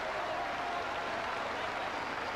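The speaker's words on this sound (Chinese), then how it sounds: "全場嘅觀眾咧亦都不斷咁拍掌" An audience at a 1986 table tennis match between Yoo Nam-kyu and Jiang Jialiang applauds, a steady dense clapping from a large crowd that holds evenly throughout.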